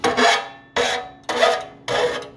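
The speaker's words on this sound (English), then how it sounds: "This file doesn't have a handle, but I'm just gonna make this kind of a nice smooth edge for it to weld." Hand file without a handle deburring the metal edge of a home-made fuel tank for a front engine dragster, four loud close rasping strokes in an even rhythm with short pauses between them.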